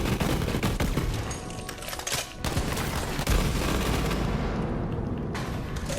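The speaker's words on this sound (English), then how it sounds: "this shotgun is garbage" Shotgun blasts from Borderlands 3 boom repeatedly amid a constant wash of heavy in-game gunfire and chaos, loud and continuous throughout.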